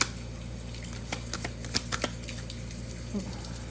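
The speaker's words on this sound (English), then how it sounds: "I'll just need to shuffle." Tarot cards being shuffled by hand, a few quiet riffling clicks and soft taps close by against a low background hum.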